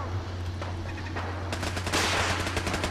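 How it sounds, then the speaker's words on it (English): Rapid automatic gunfire bursts in the video game Fallout 4, a dense continuous rattle of shots that grows louder toward the end over a steady low hum. "Oh, why are we getting shot at now?"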